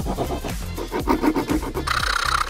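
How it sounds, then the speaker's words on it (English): A small Leatherman multitool saw trims excess pieces, making rapid close rasping strokes in an uneven rhythm, ending in a brighter scraping burst. "Right now, I'm going to go for the little cutting saw because we're going to trim up some of those little excess pieces in there."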